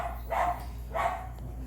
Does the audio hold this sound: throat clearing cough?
no